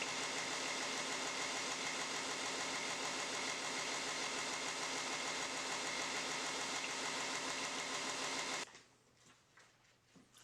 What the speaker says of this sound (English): The grinder that I'm using is a OBM. It's a 2 horsepower, variable speed.